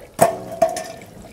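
Liquid splashes from a funnel while spring wheat seed is being treated on a farm, two short bursts of pouring close by, brief and fairly loud.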